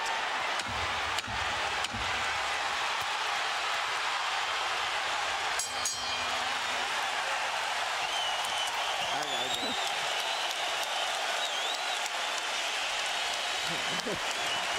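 A big boxing arena crowd stands and applauds at ringside, a dense continuous wash of clapping and cheering with a few louder sharp bursts, and an announcer's voice comes through faintly underneath.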